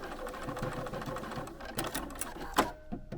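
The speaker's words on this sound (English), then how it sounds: "just start sewing" A sewing machine stitches shirring rows on a garment, running in a fast steady rhythm close by and pausing briefly near the end, with no talk.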